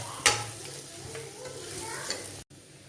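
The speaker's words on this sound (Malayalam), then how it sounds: "പൊടികളുടെ പച്ചമണം ഒന്ന് മാറിക്കഴിയുമ്പം ഈ തക്കാളി അരച്ചത് ചേർത്ത് വഴുത്ത" Ground tomato paste sautéing with spices in a pan, a steady soft sizzle with a sharp stirring scrape near the start and lighter utensil clinks later, close and moderately quiet with no talking.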